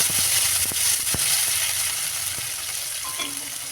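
Chopped tomatoes hit hot mustard oil already tempered with two dried red chillies, a bay leaf and five-spice seeds, giving a loud, close, steady sizzle with crackling pops and a few stirring scrapes, and no talking.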